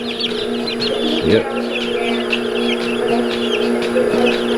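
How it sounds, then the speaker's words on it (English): Layer hens, turkeys and guinea fowl cluck and chirp steadily inside a brooder, a busy chorus of bird calls over a constant hum, with a person speaking briefly. "We've got layer hens, turkeys, and guineas in here in this brooder right now"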